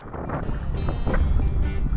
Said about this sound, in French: J'ai le vent pile poil qui m'empêche d'avancer.